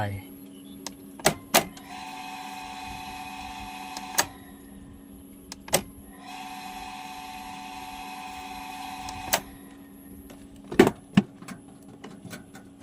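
A Wi-Fi switch in an automatic two-source power changeover set, two long whirring motor runs with sharp clicks and clunks between them, faint talk in the background.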